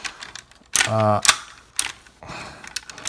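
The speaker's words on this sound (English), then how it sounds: "So many ratchets." Ratcheting joints of a Cybertron Supreme Class Primus transforming robot toy click loudly in a rapid burst of clicks, followed by a few sharp single clicks, with someone speaking briefly nearby.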